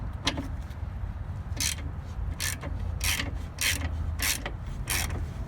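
Ratcheting and clicking bursts from 15mm and 18mm sockets working loose a shock absorber nut, a series of short mechanical ratchet runs repeating close up over a low background hum, with no talking.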